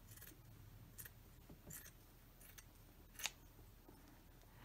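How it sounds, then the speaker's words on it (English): Scissors snip lace off a fabric dress in a few quiet, separate cuts, faint and close in an otherwise still room. "We're going to cut this off right here, this lace part."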